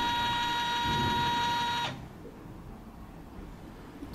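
Janome embroidery machine setting itself up with the embroidery hoop attached, a steady whirring mechanical hum with tonal whine that runs loudly for about two seconds, then cuts off abruptly, leaving quiet room noise.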